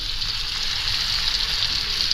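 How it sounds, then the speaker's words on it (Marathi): A piece of jitada fish fries on a hot tawa with a steady, close hiss of sizzling oil that continues unbroken. "तरी इकडे तव्यावरती एक फोड टाकली"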